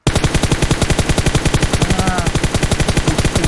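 Rapid automatic gunfire from a video game, a fast continuous burst of loud shots in even rhythm lasting several seconds.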